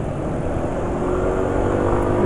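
Engine of a Yamaha NMAX scooter while riding, a steady low drone with continuous road and wind noise, fairly loud and unchanging, no voices.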